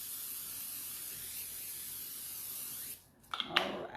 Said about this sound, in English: And then I'm going to spray it again.